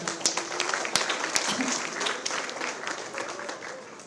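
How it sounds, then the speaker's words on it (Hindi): Office staff applaud an employee of the month at an Independence Day celebration, a moderate crowd clapping with a few sharp nearby claps, tapering slightly toward the end. "जोरदार तालियां, जोर से तालियां बजाओ।"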